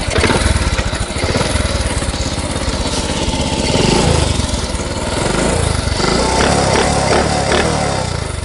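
A vehicle engine starts and runs loud and close, holding a steady buzzing idle with slight rises in revving throughout, alone without talk.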